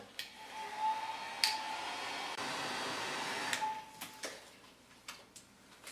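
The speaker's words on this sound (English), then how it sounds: "I'm going to hit it with my heat gun just to speed up the drying time" A heat gun blowing hot air to dry a blended paint layer gives a steady, moderate whoosh that runs through most of the span, with a few small clicks and taps on top and no talking.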